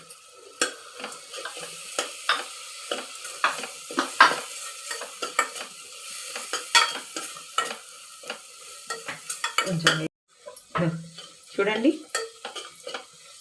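Coriander powder and spices frying in a pan, heard as a rhythmic series of scraping stirs with metal utensil clinks over a light sizzle, and a brief pause near the end. A voice speaks briefly.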